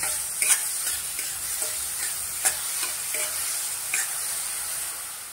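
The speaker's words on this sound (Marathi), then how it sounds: "छान असं आपण आता कांदा भाजून घेऊया" Two finely chopped onions with a little salt fry in oil in a pan, giving a steady sizzle broken by several brief scraping bursts as they are stirred.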